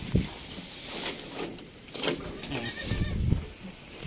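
A goat being fed hay and goat feed bleats several times in short, nasal calls spaced apart, fairly close, with rustling and handling noises in between and no clear talk.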